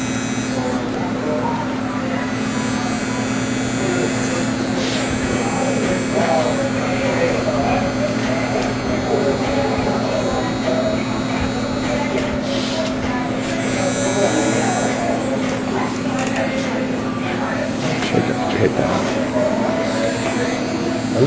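Electric hair clippers buzz steadily throughout while edging a tight barbershop line-up with crisp corners, a constant close hum with small shifts as the blade moves, and a voice speaks over it.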